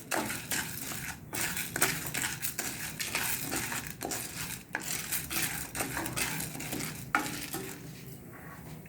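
Chana dal dry-roasts in a pan as a spoon stirs it, producing a continuous gritty rustling and scraping of hard lentils against metal, close and moderately quiet, with irregular louder scrapes throughout.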